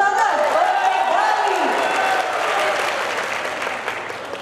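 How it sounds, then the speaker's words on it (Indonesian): Audience applause and some cheering at a national legal-awareness quiz competition final in 2016, starting under a raised voice and continuing as a steady, full clapping wash. "Iya, tepuk tangan."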